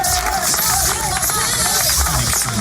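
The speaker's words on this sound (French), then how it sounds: "Applaudissements pour elle" Studio audience applauding and cheering for a singer at a live radio broadcast event, dense continuous clapping and crowd noise throughout, with some voices mixed in.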